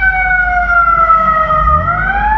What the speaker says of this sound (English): you heard the sirens just now from the fire truck